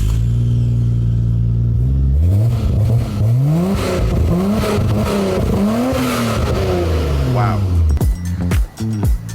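A twin-turbo Porsche 996 engine revs hard through several rising gear pulls, loud and close, then cuts off sharply near the end while a voice reacts over it.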